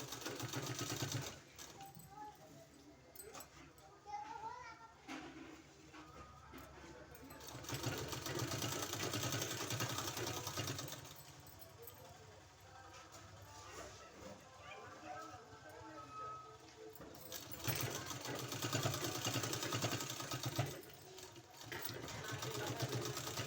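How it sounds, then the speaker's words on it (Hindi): Sewing machine stitching a folded fabric strip onto a sleeve, running in two long bursts with a quieter pause between, close and fairly soft, with a voice talking over it. "यहाँ इस तरह से सिलाई लगा देना है"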